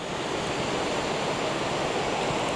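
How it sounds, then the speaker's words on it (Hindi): The Badshahi Bagh river rushes past in a dense, continuous roar of flowing water, loud and unbroken throughout, with no voices. "ये बादशाही बाग नदी है"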